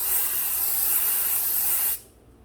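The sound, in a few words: spraying Apple Guard on Louis Vuitton bag strap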